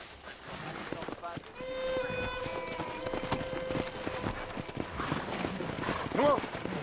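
Wild horses in Red Dead Redemption clatter with rhythmic hoofbeats, joined by tonal game sounds and a whinny near the end, all under steady ambient noise.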